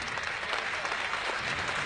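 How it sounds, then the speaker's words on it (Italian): Dense, continuous applause from a crowd of police officers, officials and neighbourhood residents as a coffin passes at a funeral, an even wash of clapping throughout with no voices. "applauso da parte di tutti, poliziotti, funzionari, gente semplice di questo quartiere."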